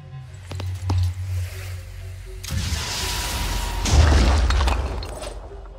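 A rocket fired at an enemy sniper in the video game Phoenix Point, heard as a loud booming blast that bursts in, then a second heavier explosive roar with crunching debris, after a quieter stretch of rumbling game ambience.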